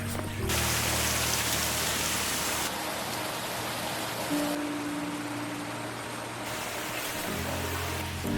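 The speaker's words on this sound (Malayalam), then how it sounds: "മഴയൊക്കെ കഴിയുമ്പോൾ ഇവിടുത്തെ ഒരു പ്രത്യേകതയാണ്, 4 വശത്തു നിന്നും വെള്ളച്ചാട്ടങ്ങളാണ്." Waterfalls pour down from several sides in a forest at Laha, Pathanamthitta, after the rains, making a steady, dense rushing roar that fills the scene without pause and with no talk over it.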